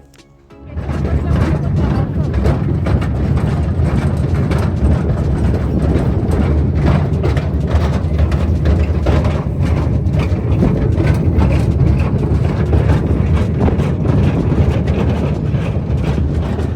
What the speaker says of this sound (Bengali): এবার ট্রেন চলতেও শুরু করে দিয়েছে